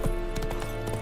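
Horse galloping in The Witcher 3, a quick burst of hoofbeats in a brief moment of play.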